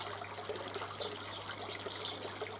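Water trickling and splashing as a koi pond is topped up, a continuous close burble holding at an even, moderate level from start to finish beneath a faint low hum.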